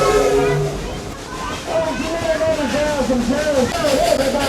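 A steam train ride at Dollywood in Pigeon Forge, Tennessee: a hissing steam whistle sounds in wavering tones over a rumbling, clattering train, while people talk loudly throughout.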